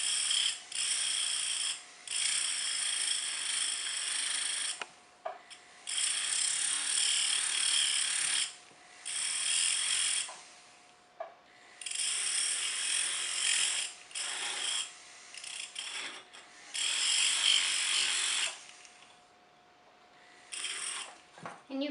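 A flex shaft fitted with a small disc sander grinds the tip of metal tubing in short, buzzing bursts separated by brief pauses, over a faint steady motor hum.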